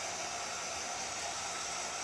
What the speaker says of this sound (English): let me hit this with the dryer